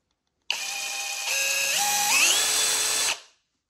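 A MENSELA ED LX2 brushless cordless drill driver runs alone at close range for about two and a half seconds, its motor whine stepping up in pitch partway through before spinning down to a stop.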